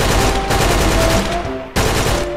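Heavy gunfire in a zombie survival game as a horde is shot down: a dense, loud, continuous rattle of shots with a brief break near the end before the firing resumes.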